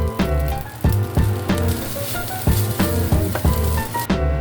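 Garlic fried rice sizzling in a pan under steady frying crackle, with repeated clattering strokes of a utensil stirring and tossing it at a loose, uneven rhythm, close and fairly loud.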